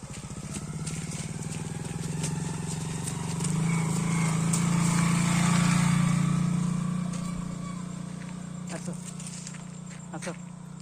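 A motorbike with a faulty starter, kick-started by foot, is ridden by a nervous rider; its engine holds a loud, steady drone that swells midway and then eases off, with no one talking.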